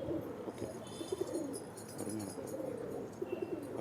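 Pigeons cooing in a loft in Coimbatore, India, repeated soft low coos from several birds overlapping at close range, with no talking.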